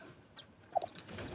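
A hen gives a couple of soft, short clucks close by in a quiet coop, with little else around it.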